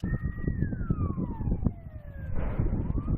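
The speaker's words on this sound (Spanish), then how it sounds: "Desde los pueblos más cercanos se pueden oír las detonaciones, pero también los coches de bombero." Fire engine sirens near explosions at a Russian military base in Crimea, several wailing tones sliding down and overlapping, loud and fairly close, over a dense rumble of traffic and bursts of noise.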